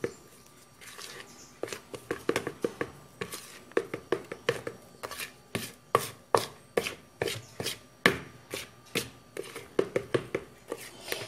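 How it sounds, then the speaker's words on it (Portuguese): Lemon cake batter stirred in a stand-mixer bowl after baking powder is added, giving a run of close, sharp taps and scrapes in an irregular rhythm that speeds up partway through. "nós podemos acrescentar o fermento em pó à massa e mexer"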